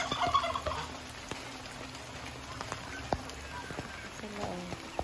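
Turkeys gobble in a wet chicken coop during rain alongside young black Australorp chickens, short calls breaking through a steady patter of raindrops and scattered clucking, fairly faint, with a person talking at times.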